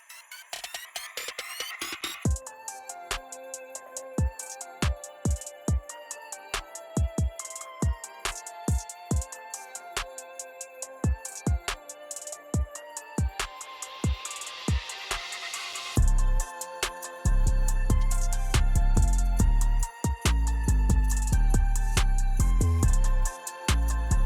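A synth-driven song plays with sharp repeated plucked notes and percussive hits, building into a fuller, louder section with deep bass near the end.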